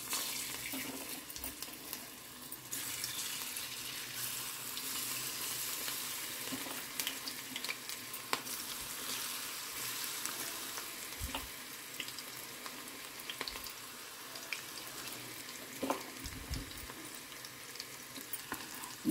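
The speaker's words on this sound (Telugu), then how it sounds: "ఈరోజు మరి లంచ్ టైంలో నేను కాలీఫ్లవర్ డీప్ ఫ్రై చేస్తున్నా." Cauliflower deep frying in hot oil, a steady broadband sizzle running throughout with occasional louder pops and scraping clicks from the pan, moderately close and without any talk.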